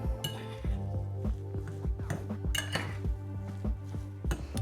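A spoon stirs black pepper into salted water in a pot, giving a run of light metallic clinks and scrapes against the sides, close and moderately loud.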